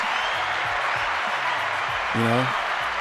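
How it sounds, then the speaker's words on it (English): Steady clapping and cheering from a crowd fills the whole clip, with a voice talking over it. "I had to give it a round of applause."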